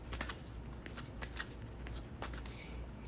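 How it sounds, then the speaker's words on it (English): A deck of oracle or tarot cards is given a quick shuffle during a pick-a-card reading: steady, close riffling and flicking with soft papery crackles for about three seconds, with no voices. "So, if I just do quick shuffle."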